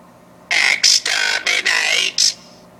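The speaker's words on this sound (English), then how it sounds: "Right, a Dalek sounds like this." Doctor Who Dalek toy giving a harsh, buzzing electronic voice in about six clipped bursts over two seconds, loud and close, the last burst trailing off.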